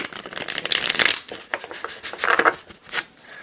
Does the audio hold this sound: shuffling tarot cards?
yes